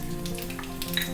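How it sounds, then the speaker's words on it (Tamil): Mustard seeds, urad dal and cumin sizzle and crackle in hot oil in a home kitchen pan, a steady close frying hiss with scattered sharp pops, no talking. "இந்த பக்கம் எண்ணெய் காஞ்செடுத்து இதில் வந்து கடுகு, உளுத்தம்பருப்பு, சீரகம்"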